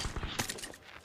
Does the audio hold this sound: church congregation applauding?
no